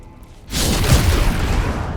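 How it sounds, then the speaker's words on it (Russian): A sudden deep rumbling blast in Baldur's Gate 3 bursts in after a quiet moment and rolls on as a sustained low roar. "Что за взрыв?"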